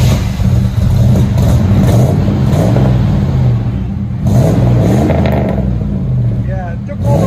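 A Chevy Caprice Classic with a 5.7L V8 and loud exhaust revs repeatedly, giving a deep, close, booming roar that rises and falls in pitch, with people talking over it.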